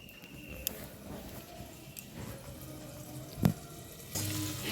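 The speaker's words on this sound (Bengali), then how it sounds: "কেন উচ্ছে দিয়ে কুমড়ো দিয়ে ভাজা হচ্ছে" Vegetables, bitter gourd and pumpkin among them, fry in a pan with a soft, continuous sizzle and occasional stirring clatter, fairly quiet and close, with a brief knock midway and a louder burst of sizzling near the end.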